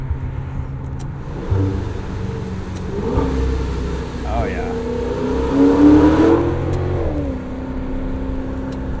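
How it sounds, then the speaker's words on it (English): A deep 2019 Maserati Levante Trofeo SUV engine idles then revs up and burbles, rising and falling in pitch, with a brief remark spoken over it. "You guys have still managed to capture that classic Maserati sound in a full-size SUV."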